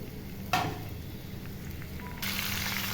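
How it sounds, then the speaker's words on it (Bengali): Shrimp dropped into hot oil in a wok give a sudden sharp splash of sizzle, a quieter stretch, then a louder, steady hiss of frying that continues to the end, close by with no voices. "তেল গরম হয়ে এসেছে এবার ভাজার জন্য মাছগুলো দিয়ে দিলাম"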